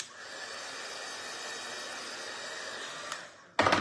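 A hair dryer blows a steady, loud, rushing hiss for about three seconds to dry a part of a homemade surfboard wagon, then cuts off, followed by a short burst of handling noise.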